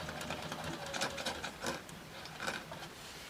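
Sewing machine running applique stitches around a gnome quilt block with fusible backing, a steady close mechanical whirr with quick shifting pulses of needle speed.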